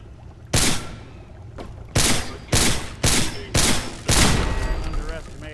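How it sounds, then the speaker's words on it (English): A heavy cannon or grenade launcher fires in Fallout 4, sounding as five or six loud, booming blasts spaced roughly half a second to a second apart, each with a ringing tail. "I think that was a heavy cannon or a grenade launcher of some kind."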